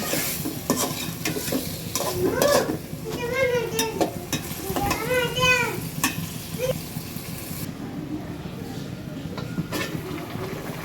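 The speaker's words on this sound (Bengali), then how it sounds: "এখন মশলার সাথে আলুগুলো ডালে দিয়েছে। আলুগুলো মিক্স করে নিচ্ছে।" Potatoes being stirred with spices in a cooking pot on a lentil dish, a steady scraping stir over a sizzling fry that runs continuously, with a voice talking over it.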